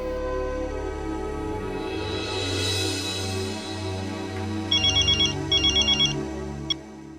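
A telephone rings in a home scene, two short electronic trilling bursts rising over a steady low music bed, moderately close.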